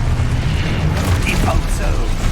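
Spell blasts in Hogwarts Legacy, booming magical explosions and mechanical clatter that rumble loudly under a voice calling out spell names, which overlaps the sound throughout.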